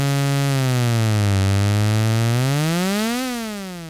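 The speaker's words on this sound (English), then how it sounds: "And when I hit the key, I'll go back to the sine wave here." A Roland JD-08 synthesizer tone whose pitch slides down, holds, then bends up and back under LFO modulation, a loud, sustained buzzy note with strong harmonics and no talk.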